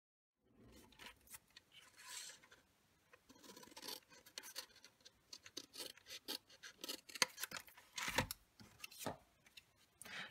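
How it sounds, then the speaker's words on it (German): Scissors snip through a paper band for a handmade chocolate or bath-salt package in a quiet room, a series of close, crisp cutting and rustling strokes that grow busier toward the end. "Ich werde jetzt von der einen Hälfte hier einfach noch ein Stückchen abschneiden."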